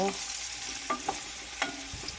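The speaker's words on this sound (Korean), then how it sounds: "거의 튀기듯이. 어 튀기듯이 이렇게 막 튀겨졌잖아" Small whole potatoes fry in a pan with a steady hiss, and a utensil stirs and scrapes them now and then, close up with no voices.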